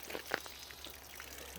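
Bleach pours into the hot water heater of a Jayco 175RD RV as a faint, soft trickle of liquid, close by and quiet, lasting under two seconds.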